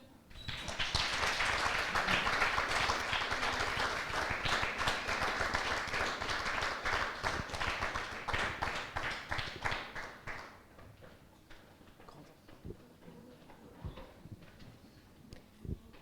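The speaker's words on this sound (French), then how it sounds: "Ils n'ont pas beaucoup dormi, donc on peut vraiment les applaudir" At the semi-final of an eloquence contest in Le Mans, an audience applauds the semi-finalists with loud, sustained clapping for about ten seconds, then the clapping fades to scattered taps and quiet room noise.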